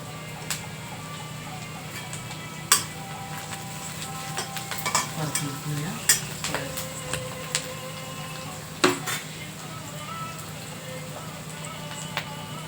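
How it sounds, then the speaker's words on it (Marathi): Curry leaves and green chillies fry in a pan with a faint, low sizzle, broken by occasional sharp clicks and scrapes from stirring. The sound is close but quiet. "त्याच्यामध्ये कढीपत्ता टाकत आहे हिरवी मिरची टाकत आहे"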